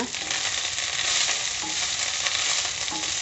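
A coriander chutney mixture roasting in a pan, with a steady broadband sizzle and frying hiss that runs unbroken for a few seconds, along with faint stirring scrapes and no voices.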